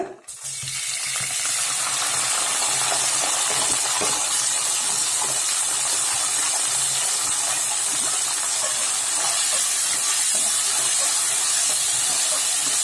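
Peeled garlic cloves frying in hot oil for Tamil poondu thokku (garlic pickle), a steady, loud, broadband sizzle and hiss that runs continuously and up close throughout, with no talking.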